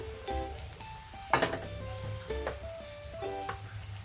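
Red chili powder hitting hot oil with ginger garlic paste, giving a bright crackling sizzle close by. A louder hiss bursts as it goes in, followed by stirring scrapes, with no talking.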